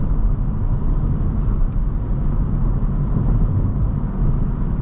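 A manual 2022-2024 Honda Civic Sport 2.0 accelerating, a steady, loud low engine drone and road rumble heard from inside the cabin, with no voices.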